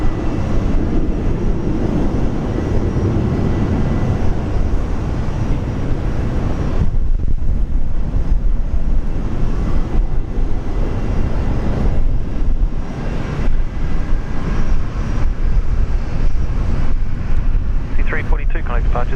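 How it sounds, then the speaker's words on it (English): A Virgin Australia airliner departing Brisbane airport, a loud, steady jet roar mixed with wind buffeting on the microphone that lasts throughout, with a radio voice talking over it. "Virgin Australia flight 342 heading off to Melbourne."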